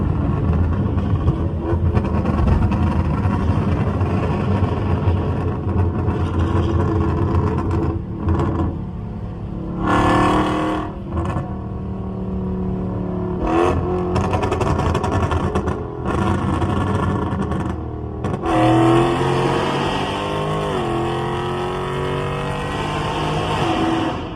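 A tuned Dodge Challenger SRT 392 V8 drones under load from inside the cabin, with bursts of sharp crackling exhaust pops breaking through at several moments over the steady engine rumble.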